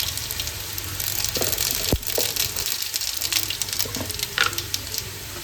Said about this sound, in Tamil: கடாய் வச்சுக்கலாம், எண்ணெய் வீட்டாகிடுச்சு. இது தேவையான கடுகு போட்டுக்கலாம்.